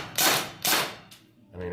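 A KWA Kriss Vector airsoft gun fitted with a Power Recoil Kit fires two loud, close, hissing bursts in quick succession, followed by a fainter third shot and then a voice talking briefly.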